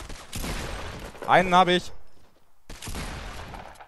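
Gunfire in the Fortnite video game crackles as a dense, noisy burst of shots, cuts out, then returns after a short silence, with someone speaking briefly between the bursts.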